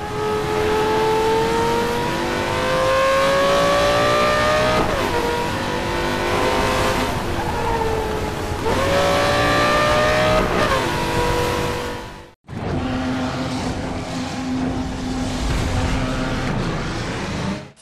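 Car engines rev hard in the racing game Need for Speed Most Wanted, loud and rising then falling through gear shifts. A brief cut near the end switches to a steadier engine drone.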